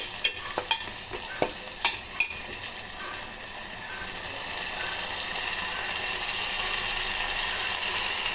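A coconut, onion and garlic masala being stirred and fried in a pan, with a few sharp scraping clicks early on, then a steady close sizzle that holds to the end.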